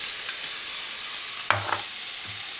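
Chicken breast pieces frying in a pan give a soft, steady sizzle, with a few faint utensil clinks partway through, close and quiet, with no voices.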